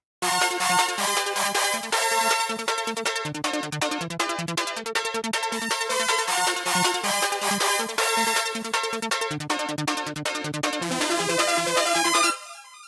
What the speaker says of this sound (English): The synths by themselves sound like this.